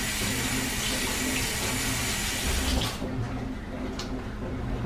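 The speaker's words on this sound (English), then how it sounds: "Wash my hands." Hands being washed under a running kitchen faucet while pork chops are cooked, a steady loud rush of tap water with splashing that cuts off near the end, leaving brief quieter dripping and sink sounds.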